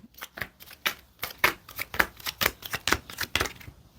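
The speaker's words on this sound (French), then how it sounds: "On va rajouter des cartes pour y voir plus clair" Tarot cards are shuffled by hand in a quick, close series of crisp riffling snaps, about a dozen evenly spaced flicks with no voices.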